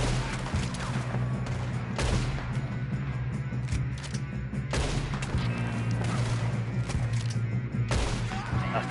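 Gunfire in the video game Red Dead Redemption 2 cracks out in sharp, loud bursts every couple of seconds over a constant low hum of background sound and music, with little talking.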